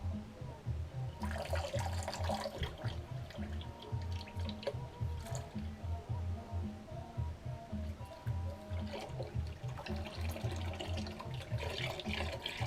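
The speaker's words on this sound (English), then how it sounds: "We'll put that well water in." Well water poured into a hot Dutch oven at a campfire makes an irregular, splashing trickle with gurgling drips that continues in uneven bursts, fairly quiet and close.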